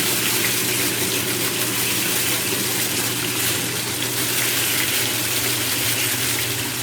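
A washing machine filling with warm water for a large load of dark clothes dosed with OxiClean packs and Gain, a loud steady rushing gush that runs unbroken throughout.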